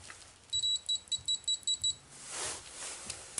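An Amprobe 320 multimeter in continuity mode gives about seven short, clear, evenly spaced beeps, followed by faint handling rustle.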